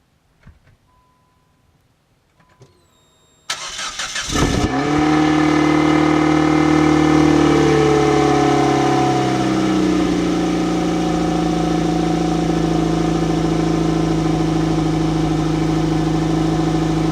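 A Nissan Sentra engine cranks briefly after a few soft clicks, catches with a loud burst and settles into a steady, close, rumbling cold idle for the rest of the time, with no voices over it.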